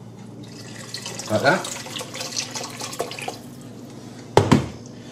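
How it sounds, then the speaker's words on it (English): Water is poured into a pan of roast chicken gravy in a home kitchen, giving two short splashing bursts, the second sharper and louder, with someone talking around them. "You just put some water in there"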